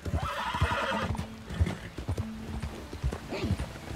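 Hooves clip-clop on the ground while a horse whinnies in Red Dead Redemption 2, uneven steps close by with a drawn-out neigh early on, under low game ambience.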